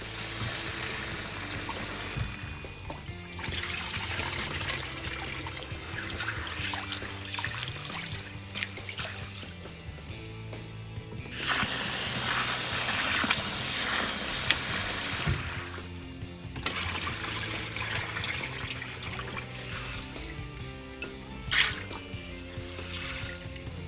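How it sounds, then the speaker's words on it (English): Beans are washed by hand in water, with steady trickling, sloshing and swirling close by. Background music plays underneath, and the sloshing swells noticeably at intervals. "I just washed the beans"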